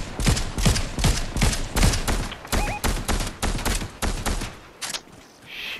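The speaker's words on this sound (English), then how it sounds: "Shots this way" Bursts of gunfire crack in a rapid, rhythmic string in Fortnite Zero Build, loud and close, each volley evenly spaced before the firing trails off near the end.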